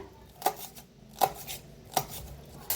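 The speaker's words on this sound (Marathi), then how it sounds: "एक एकदम बारीक असं कट करून घ्यायच्या त्या हिरव्या मिरच्या" A knife chops green chillies finely on a cutting board in a home kitchen, four sharp, evenly spaced taps about three-quarters of a second apart, close and fairly quiet.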